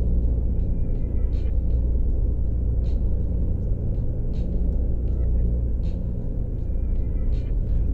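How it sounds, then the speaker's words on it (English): Tour bus engine in the Tourist Bus Simulator game, a steady loud low rumble droning throughout with faint rattling clicks on top, close and constant. "I'm listening to the bus"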